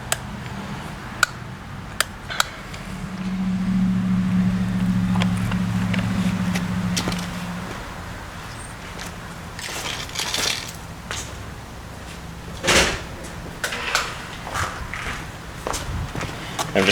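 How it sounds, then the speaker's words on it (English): Low hum of a polisher running on low speed against a car headlight during restoration, lasting a few seconds, surrounded by scattered clicks and handling knocks. "I got my polisher set on low speed"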